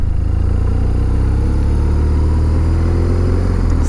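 A motorcycle engine drones loudly up close as the bike pulls away and builds power through the gears, a steady low rumble with no pause.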